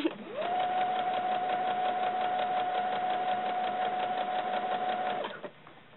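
A sewing machine runs steadily while stitching doll leggings, a continuous close mechanical whir that holds constant for about five seconds before stopping abruptly, with no talking.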